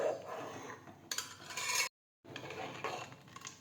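A spoon stirs sugar into sabudana kheer made with milk in a pot, giving quiet, steady scraping and clinking against the metal. The sound breaks off in a short silence, then the stirring resumes.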